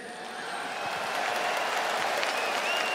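Hawks fans cheering at Yahuoku Dome after a baseball game, a dense roar of crowd noise that swells slightly and holds, broad and steady with no distinct voices.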